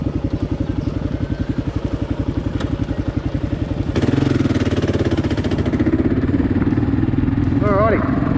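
A motorcycle with a cracked fairing after a crash idles with a steady, close, pulsing thump, then revs up into a louder, rougher drone as it pulls away.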